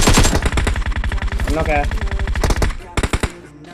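Rapid automatic gunfire in PUBG Mobile, dense bursts of close shots running through most of the moment with a short pause and a few final separate shots, under brief talk.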